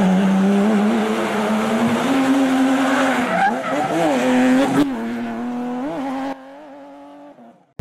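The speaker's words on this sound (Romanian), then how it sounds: "mă trezi nebunul ăsta cu drifturile lui" A car in the GTA video game drifts with a continuous engine drone and long tire squeals, its pitch wavering as the slide goes on, loud and close before cutting off abruptly near the end.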